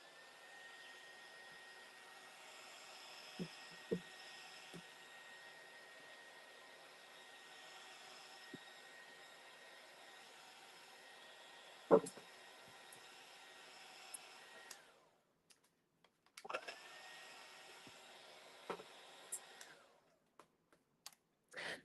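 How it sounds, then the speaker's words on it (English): A heat gun blows on a craft project with a steady whooshing drone and a faint humming tone. It cuts off, comes back in short bursts, and a few light clicks are heard. "I'm still going to give it a shot with my heat gun."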